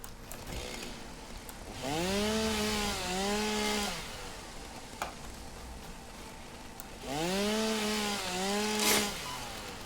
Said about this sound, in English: Let's chainsaw this.